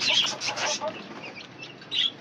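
Six young chicks let out of their cage give a few high, thin peeping chirps in short bursts, close by and moderately loud, over a faint background.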